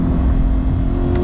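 Lingenfelter-tuned 2021 C8 Corvette engine held on throttle, a loud, steady low rumble with a constant droning tone and no break, heard up close from inside the car.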